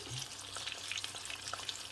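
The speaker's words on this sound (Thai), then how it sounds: "อันนี้พาทอดปลา" Fish sizzles and crackles steadily in hot oil, a dense close frying hiss with scattered pops throughout.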